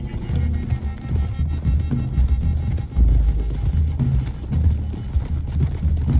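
Horses galloping in the video game Red Dead Redemption 2, a rapid, continuous drumming of hooves, loud and close, with low rumbling beneath and a voice speaking over it.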